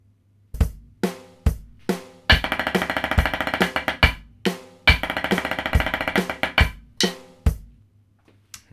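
A snare drum plays a snare break: sharp, close, crisp hits mixed with rapid buzzing rolls and accented flurries in a driving, uneven rhythm, played alone.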